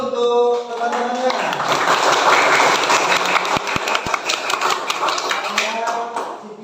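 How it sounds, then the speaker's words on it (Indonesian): Schoolchildren in a classroom clap their hands together, a dense, continuous patter of many claps at close range, with children's voices mixed in. "coba tepuk tangan dulu untuk teman-temannya"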